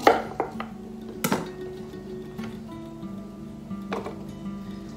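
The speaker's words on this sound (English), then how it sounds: "And just roughly chop as well" Fresh turmeric root being roughly chopped with a knife for laksa paste, a few sharp knife strikes on a board with kitchen clatter, close and moderately loud, no talking.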